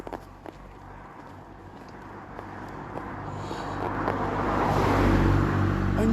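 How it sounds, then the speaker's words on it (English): A car approaches from a distance, its road noise swelling steadily louder toward the end, with faint footsteps or rustling early on. "I knew there was a car there."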